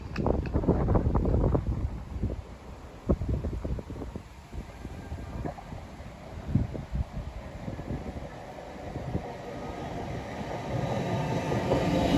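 At the Durham station platform, a Trans-Pennine Express train rumbles with uneven low clunks and rattles. Wind buffets the microphone, and the sound swells and eases over the stretch.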